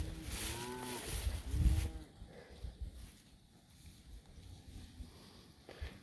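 Cattle mooing outdoors during a cattle drive on pasture before a rainstorm: a couple of long, loud, nearby moos in the first two seconds, then quieter ambient field noise.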